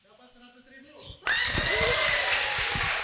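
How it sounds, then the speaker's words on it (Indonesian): A classroom of students breaks into applause after a teacher speaks briefly, the clapping starting abruptly and continuing as a dense, close burst of many hands until the end. "Tepuk tangan ya."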